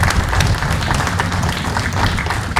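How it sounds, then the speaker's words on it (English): A crowd claps loudly and steadily, a dense burst of applause lasting a few seconds. "you guys and everybody deserve a big round of applause"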